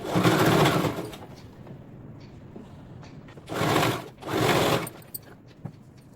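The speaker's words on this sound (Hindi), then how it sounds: "सीधे सिलाई मशीन को इस पे रखूंगी मैं, और सीधे बस सीधी सिलाई चलानी है" Sewing machine running straight stitches along a blouse pad in three short bursts: a long run at first, then two quick runs close together. The stitching is loud and near, with quiet pauses between the bursts and no talking.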